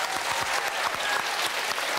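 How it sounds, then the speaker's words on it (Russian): Studio audience applause on a Russian television music-guessing game show, a steady dense burst of many hands clapping that fills the whole moment without any talk. "аплодисментами встречаем"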